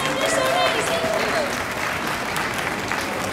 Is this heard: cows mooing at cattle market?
no